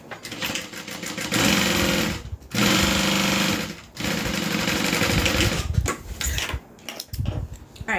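A sewing machine top-stitches a bag in fast, loud bursts of rapid needle chatter, stopping briefly between runs, then breaking into shorter stop-start stitches near the end.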